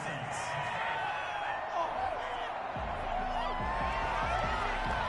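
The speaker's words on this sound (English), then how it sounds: "This home crowd, they're happy with that call." Home crowd in a Madden 21 American football video game, a broad steady roar of cheering fans filling the background throughout, with commentary voices talking over it.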